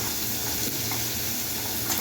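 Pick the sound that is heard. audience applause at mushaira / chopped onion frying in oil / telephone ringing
chopped onion frying in oil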